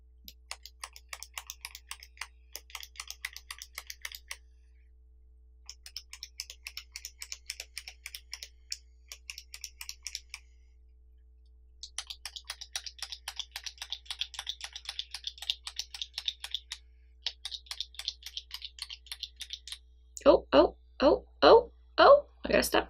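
Repeated clicking of a Revlon Youth FX concealer pen's click mechanism, a steady run of small, close, crisp ticks in bursts with short pauses, ending in a few louder, heavier knocks.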